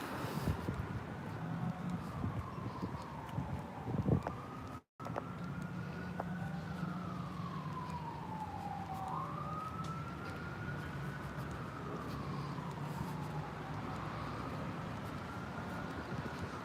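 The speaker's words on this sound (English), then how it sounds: "There's a siren going off." A siren wails in long rising and falling sweeps, fairly distant, over steady traffic rumble, with a brief dropout partway through.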